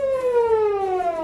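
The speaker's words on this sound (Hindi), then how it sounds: "जब सायरन इस बात का ऐलान करते हैं कि दुश्मन हमला अवर हो चुका है" A loud air-raid warning siren in Kashmir wails on a steady tone that slowly glides downward, alone with no voices.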